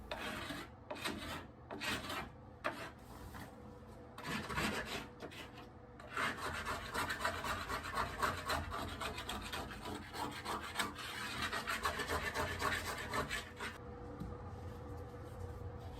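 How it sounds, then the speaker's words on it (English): A tool scrapes cracked grout along tile joints, close rasping strokes, short and choppy at first, then a steadier continuous grinding scrape, no speech. "You just simply scrape it along the cracked,"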